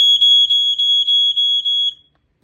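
A smoke alarm being tested sounds a loud, piercing high-pitched beeping in a rapid pulsing pattern of about seven bursts, then cuts off into silence.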